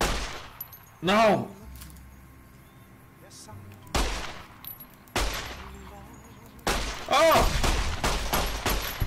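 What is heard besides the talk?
gunfire in the video game Fallout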